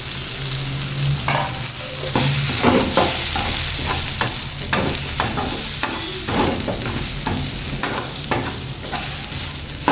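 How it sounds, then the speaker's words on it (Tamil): Steady sizzling of grated coconut sautéing in a hot pan with repeated scraping and stirring strokes, close up, with no talking. "தேங்காயும் நல்லா வதங்கணும்."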